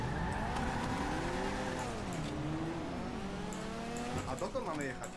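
A car engine revving and shifting pitch in a video-game race, with a smooth rising and falling drone and tire noise, heard under people talking.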